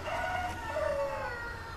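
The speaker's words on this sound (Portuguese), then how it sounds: "Olha o galo cantando" A rooster crows once in a long, drawn-out call at moderate distance over a low outdoor background hum.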